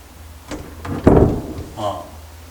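An interior door with a shouldered hidden-door style frame stopper in a 58-pyeong apartment swings shut with a solid thud, preceded by light handling clicks and followed by a brief rustle.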